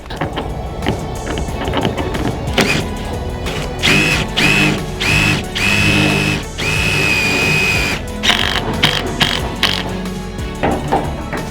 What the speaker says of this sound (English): just down here I'm going to put some screws and leave them sticking up so that the archway can't pop off the decking